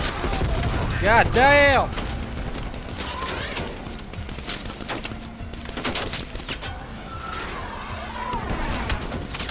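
Gunfire in Call of Duty: Black Ops Cold War pours into an enemy turret, with loud bursts and shots scattered throughout amid game effects, and a man exclaiming over the top.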